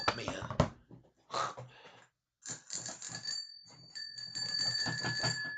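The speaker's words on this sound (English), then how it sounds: "I'm ringing the bell, people." A bell is rung, with sustained ringing tones in the latter half, and a person talks over it throughout.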